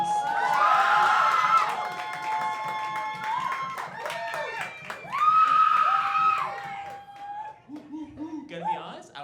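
Stand-up comedy audience cheers, whoops and claps as a comedian is welcomed to the stage, crowd noise swelling loudly in bursts with high shouts over clapping, under a host's voice.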